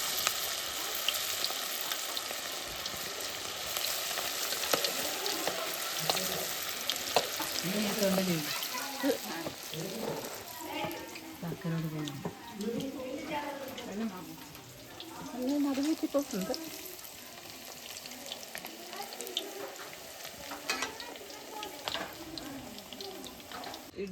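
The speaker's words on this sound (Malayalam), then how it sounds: "ഇടിച്ചക്ക വറുത്തെടുത്തത് ഇതാ" Tender jackfruit pieces coated in cornflour deep-fry in hot oil, a steady, fairly quiet bubbling sizzle that runs throughout while a person talks over it.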